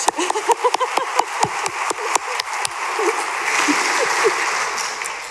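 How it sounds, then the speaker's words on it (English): Scattered claps build into steady applause from a small church congregation, starting as distinct sharp claps and blending into a continuous patter. "let's applaud them for their courage."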